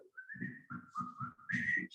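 A person whistles a sustained melodic tune of several phrases, clear and close, with no one talking over it.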